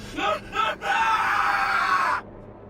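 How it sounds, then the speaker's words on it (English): A person screams loudly during a Star Citizen gaming session, a few short yelps building into one long sustained shriek of about a second and a half, close and harsh, then cut off abruptly. "Bro, don't scream like that."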